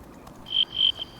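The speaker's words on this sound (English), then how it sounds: "If you guys listen closely, you can hear crickets and bugs and the wind." Insects chirp in a nature preserve, with three short high-pitched trills in quick succession over a faint, quiet outdoor background.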